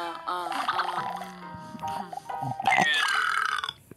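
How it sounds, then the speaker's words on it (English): A cartoon character from a Toca Boo episode lets out a drawn-out, wobbly burp, loud and close, followed by a brief sliding squeak. "I just burped."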